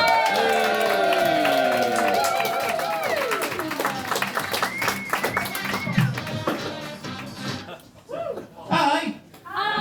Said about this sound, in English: we're going to bang our hands together and sort of just generally holler and yelp and cheer for Charlie Band